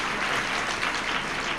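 Audience clapping at a Hindi spiritual discourse, a steady dense wash of applause held at even loudness throughout, with no talking over it.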